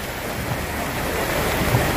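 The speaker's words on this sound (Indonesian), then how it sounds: "Ini kita sedang menunggu hujannya reda dulu ya." Heavy rain pours steadily during a rainy road trip in Kalimantan, a dense continuous hiss close by with no breaks or voices.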